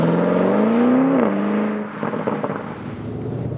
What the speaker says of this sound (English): We put to the sports mode that also activates the special sports exhaust we have in this sports lightweight package.